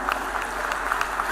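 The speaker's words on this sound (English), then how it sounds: "let the claps keep rolling, ladies and gentlemen, come on" An audience applauds an award recipient at the BioAsia 2025 event, dense steady clapping from a large crowd throughout the short moment.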